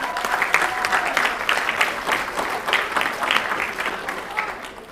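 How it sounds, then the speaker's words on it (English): Audience at a primary school graduation ceremony breaks into sustained applause, dense clapping from a crowd that swells and holds before tapering off near the end, with faint voices mixed in. "Let's give them a round of applause."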